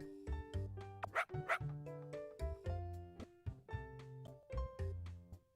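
Cartoonish dog barks from a Game Builder Garage video game, a run of short bow-wow yips over bright, tonal game music, fairly close and clear throughout.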